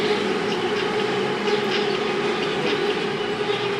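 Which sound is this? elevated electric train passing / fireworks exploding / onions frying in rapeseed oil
elevated electric train passing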